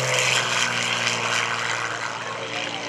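A propeller airplane at the Greenwood Lake airshow drones steadily at full power on its takeoff roll, a loud, continuous engine hum with a buzzing tone.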